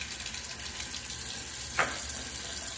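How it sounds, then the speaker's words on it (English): Water runs steadily from a tap to rinse a Dorco PL-602 razor, a soft continuous hiss with a brief splash near the end, close but fairly quiet, with no talking. "All right, let's do a quick little"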